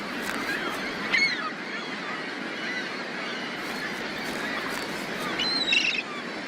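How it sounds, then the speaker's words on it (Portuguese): Gulls call from a breeding colony of tens of thousands of birds, with a few sharp, raucous cries standing out over a dense, continuous background of distant colony noise. "gaivotas se reproduzem em gigantescas colônias, contendo dezenas de milhares de indivíduos."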